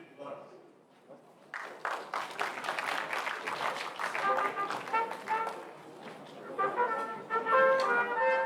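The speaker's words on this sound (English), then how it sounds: "Please clap for them as they are coming up" Audience applause at a university convocation ceremony as degree recipients come up, moderate clapping that swells and fades in a large hall, with a speaker's voice talking over it toward the end.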